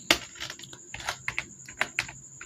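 Computer keyboard typing data into an Excel spreadsheet, with a steady run of close, crisp key clicks in uneven rhythm, alone with no talking.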